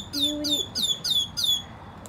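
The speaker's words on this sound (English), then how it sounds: "Listen, listen to the birds." Birds chirp outdoors at sunset, five bright descending tweets repeating at a steady rhythm, fairly close and clear over a soft background hush.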